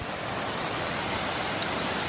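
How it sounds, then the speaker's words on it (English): A small creek runs beside a roadside pullover stop in the woods, giving a steady, even wash of flowing water with no voices. "just a quick pullover stop with a stump, and nice little creek here, something to enjoy"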